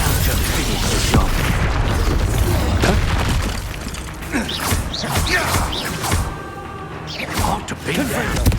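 Confringo fire spells burst in the video game Hogwarts Legacy, a dense run of booming blasts, pops and creaking, grinding mechanical clatter that stays loud throughout and then comes in scattered, punchy bursts during a magical duel.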